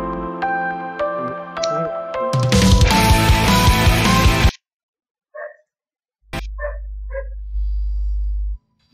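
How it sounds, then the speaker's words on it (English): A pet dog named Mona gives a few short, faint barks in quick succession, heard alone after loud music cuts off abruptly. "You hear my dog?"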